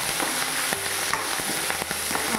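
Curry leaves frying in hot oil with mustard seeds, a steady close crackling sizzle with sharp pops and spatters running throughout.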